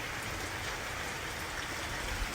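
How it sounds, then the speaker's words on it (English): A torrential downpour drums on a van, a dense, steady hiss of heavy rain hitting the surface close by, with no voices. "we've got a bit of a torrential downpour right now"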